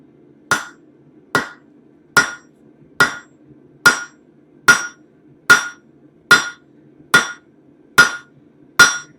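A hammer strikes metal hung off the edge of an anvil, eleven sharp ringing blows at an even, unhurried pace, close and loud with nothing else audible between them.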